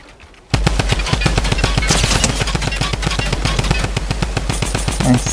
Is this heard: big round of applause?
no